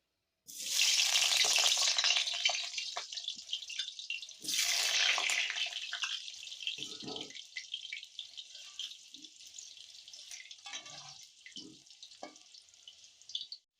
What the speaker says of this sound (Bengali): তখন আমি প্রথমে আলুটা ভেজে নেব। তো আমি এখানে সাদা তেল দিয়ে করছি